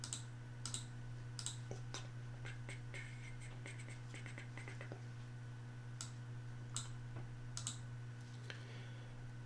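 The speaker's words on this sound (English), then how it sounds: "I'm going to go to type, and I'm going to say rsync" Keys on a computer keyboard click in a quick, uneven run of typing, then pause before a few scattered, crisp taps, close by over a steady low electrical hum.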